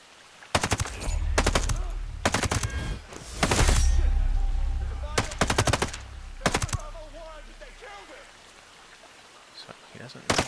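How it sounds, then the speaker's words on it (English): Suppressed gunfire in Ghost Recon Breakpoint, several rapid bursts of muffled shots in quick clusters, loud and close, with a low rumbling game background between them. "So he doesn't know where I'm shooting from because we got the suppressor on."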